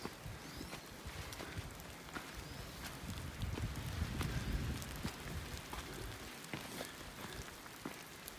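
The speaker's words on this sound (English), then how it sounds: "I mean, it's still raining, but we're in this soft growth" Rain falls steadily on a wooded trail in the Smokies, a soft hiss with scattered sharp drip ticks and a faint wind swell midway, no talking.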